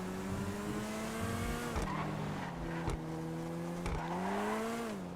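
An Aston Martin-style Visor Neo sports car in GTA V roars steadily, the engine note rising and dipping through gear changes with brief tire squeals, loud and close with no talking.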